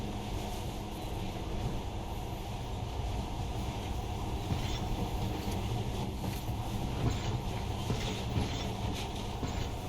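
Steady rumbling rail noise of a monorail ride in the game Metro Last Light Redux, a continuous loud mechanical drone with rattling and faint squeals throughout, no speech.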